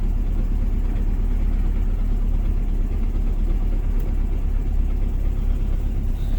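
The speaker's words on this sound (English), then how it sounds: "Yeah, I think it's idling better too." A car engine idles steadily after a harmonic balancer wobble fix, a continuous low rumble close by with no talking.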